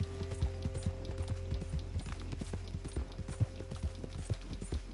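Steady clip-clop of horse hooves in Red Dead Redemption 2, a rhythmic trotting beat running the whole time over a low continuous game hum, with no talking.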